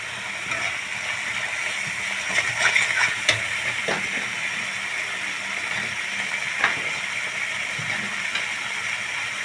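Spice masala sautéing in a pan for a vegetarian paneer dish, a steady soft sizzle and frying hiss with occasional clinks and scrapes of stirring, close and moderately quiet, no talk.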